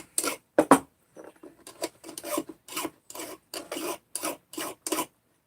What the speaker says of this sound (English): I'm just taking burrs off.